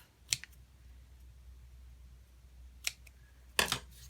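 Paper for a Stampin' Up greeting card being trimmed, a few sharp, close cutting clicks spaced apart in a quiet room.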